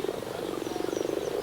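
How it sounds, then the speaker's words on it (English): A dense chorus of frogs croaking in rapid, steady pulses, loud and continuous with no voices. "You'll hear the frogs croaking."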